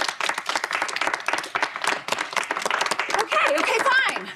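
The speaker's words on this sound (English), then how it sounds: "Please, let's vote with applause." An audience claps together to vote for a song, with sharp rhythmic clapping under voices and some chatter, swelling slightly louder toward the end.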